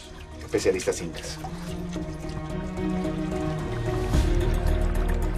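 Water flows and trickles into an Inca stone fountain basin at Machu Picchu, making a soft continuous splash. A narrator speaks over it and music plays quietly behind.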